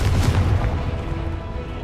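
A Confringo fire spell blast goes off in the video game Hogwarts Legacy, a loud booming burst at the start that fades into a rumbling explosive tail, with no talking.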